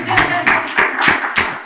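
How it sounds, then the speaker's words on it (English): A room of people clap in loose bursts at a business talk on growth strategies, about five quick waves of clapping, close and fairly loud. "Y'all clap it up."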